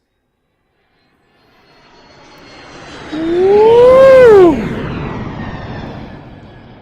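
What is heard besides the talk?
jet aircraft sound effect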